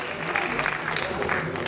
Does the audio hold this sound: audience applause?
yes